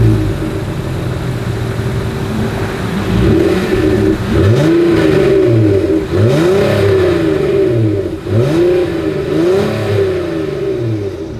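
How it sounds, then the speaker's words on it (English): A 2026 Honda Odyssey minivan revs through its exhaust, loud and close, with several rising and falling throttle blips over a steady idle and no talking. "As always, here is that exhaust clip."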